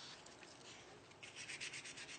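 A kerambit knife handle is worked with sanding discs, giving a faint, steady rubbing hiss that turns into quicker, rhythmic strokes during the second half.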